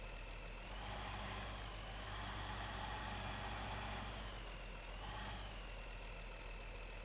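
A tractor engine idles in Farming Simulator 15, a steady low mechanical hum with a faint knocking texture that holds evenly throughout with no voices.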